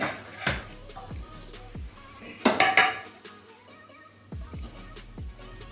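A metal lid goes onto a cooking pot of stems and potatoes with several sharp clanks and scrapes close by, separated by short quiet gaps.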